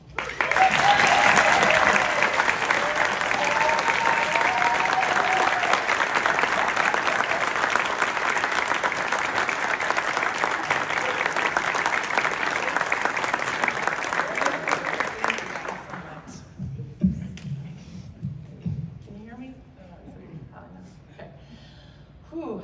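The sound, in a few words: audience applause welcoming the new coach Brooke Wyckoff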